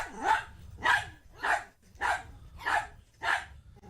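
A dog barks six times in a steady, evenly spaced series, each bark loud and close, from a funny dog clip playing on a couch scene.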